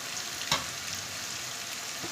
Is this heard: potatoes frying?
yes